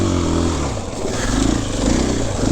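A brand new Kawasaki KLX140 dirt bike climbing a steep wooded hill, engine loud and close with a steady droning pitch that wavers and rises as the throttle opens.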